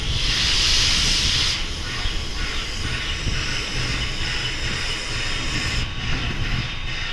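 Steam locomotive hissing close by, a loud steady rush of steam with a brighter burst in the first second and a half, then continuing rail-yard hiss and rumble.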